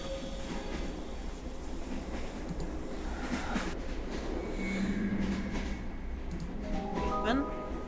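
A train runs in the Midnight Mysteries: Haunted Houdini game, a steady loud rumble of wheels and carriage noise throughout, with faint squeals and clanks near the end.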